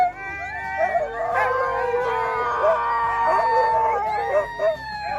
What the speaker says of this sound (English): as soon as they start moving, they just stop barking